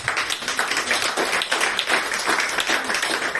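A church congregation at a worship service applauds together, producing a dense, steady wash of many hands clapping that fills the room, with faint voices mixed in underneath.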